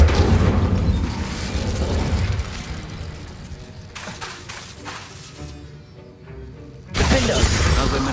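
An Incendio fire spell cast in the Hogwarts Legacy video game bursts out in a loud whooshing blast, fades into a rumbling, crackling tail, then flares again with another heavy burst near the end.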